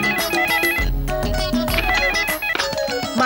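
A phone ringing with a melodic ringtone in a Gujarati family drama scene, loud and close, its repeating musical tones playing continuously with no speech over them.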